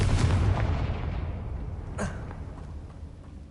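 A Confringo blasting spell detonates in a Harry Potter video game, a deep booming explosion that rumbles and slowly fades, followed by a second short burst, with no talking.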